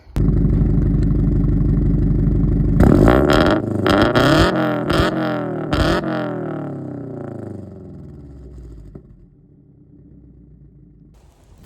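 A car fitted with a new AWE Touring exhaust idles loudly, then revs hard several times in quick succession, the engine note rising and falling before settling back to a quieter idle, close up with no talking.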